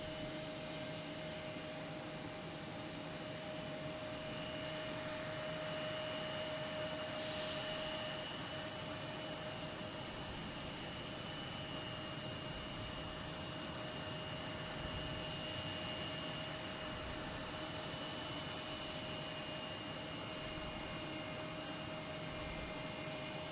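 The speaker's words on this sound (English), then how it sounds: "right now we have JetBlue coming in from Cancun, an A320" A JetBlue Airbus A320 jet arriving at Boston Logan Airport gives a steady, broad engine roar with a faint whine, heard from a distance and holding at an even level throughout.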